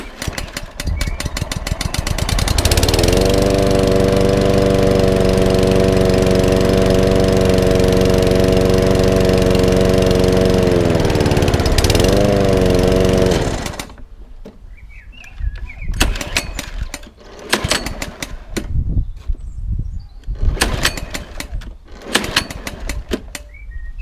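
Petrol lawn mower engine after a pull cord repair, choke partly on, starting with a roar and running loud and steady close by for about ten seconds, then cutting out, followed by scattered knocks and handling noises.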